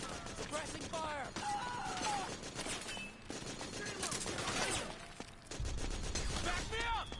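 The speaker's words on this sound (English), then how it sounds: "Suppressing fire!" Rapid bursts of gunfire crackle through a battle in Metal Gear Solid 4, dense repeated shots over shouting soldiers and combat noise, loud and continuous.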